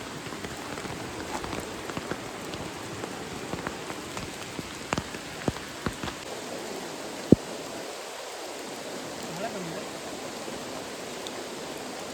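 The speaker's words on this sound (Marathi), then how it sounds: "भरपूर जोरात पाऊस चालू झाला टेंट काढल्यावरती." Heavy rain pours steadily on a surface, a dense hiss with scattered louder drops and one sharp tap midway.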